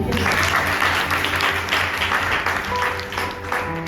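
Clapping from a congregation at a Hindi church sermon, a broad continuous patter of hands over a low steady hum, fairly loud and lasting several seconds.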